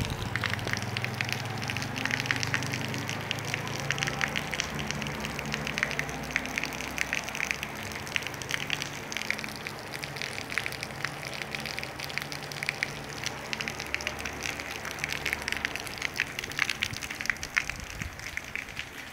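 Heavy rain falling in Umari, Ceará, a dense, continuous hiss and patter of drops on surfaces, steady and fairly faint for the whole stretch with no talk.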